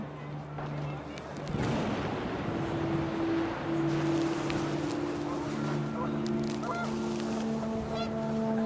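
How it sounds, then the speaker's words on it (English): In the video game What Remains of Edith Finch, panicked geese honk repeatedly over gusting wind. The calls are scattered and overlapping, with rumbling bursts of wind and moderate background noise throughout. "panicked geese appeared and quickly went"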